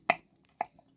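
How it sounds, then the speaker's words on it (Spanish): Two sharp knife chops on a cutting board while dicing onion and garlic for meat empanadas, isolated and close, with a faint tap between them. "También la cebolla. Vamos a rebanar. Vamos a ir cortando. Vamos a picar."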